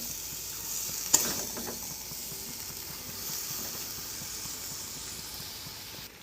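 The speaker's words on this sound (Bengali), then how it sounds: "বাঁধাকপি ও আলুকে মিশিয়ে নেব।" Cabbage and potato stirred into gravy in a pan produce a soft continuous sizzle and hiss, with one sharp clink of a spoon against the pan near the start and quieter scraping afterward, without talk.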